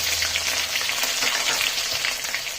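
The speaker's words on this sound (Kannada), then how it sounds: "ಈಗ ಜಜ್ಜಿರೋಂಥ ಬೆಳ್ಳುಳ್ಳಿನ ಸೇರಿಸ್ಕೊಳ್ಳೋಣ" Crushed garlic hitting hot oil already popping with mustard seeds, a dense, steady sizzle and crackle that stays loud and even throughout with no talking.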